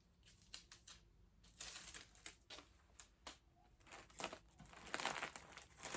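Packing tape is pulled and stuck down while eBay packages are prepared for shipping, heard as close crinkling and tearing bursts with scattered sharp snaps.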